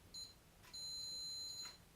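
A Bullseye ISSF target turner box emits electronic beeps while syncing its remote: a short high tone, then a longer sustained beep of about one second, quiet and alone.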